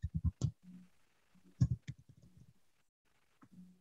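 Keys clack on a French computer keyboard in short quick bursts of typing, separated by brief pauses in a quiet room.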